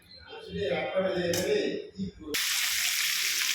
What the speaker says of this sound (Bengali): কড়াইয়ের মধ্যে তেল দিয়েছি, তেল গরম হয়ে গেছে। 1 চামচ চিনি দিয়ে দিলাম।